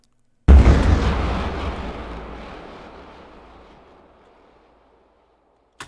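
A synthesized bomb explosion sound effect, built from scratch with bit crushing and reverb, opens with one sudden heavy deep boom that decays slowly into a long rumbling reverb tail over several seconds, followed by silence.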